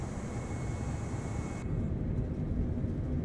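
Airplane engine during takeoff in Microsoft Flight Simulator on Xbox Series X, a steady loud roaring drone that holds even throughout, no voices.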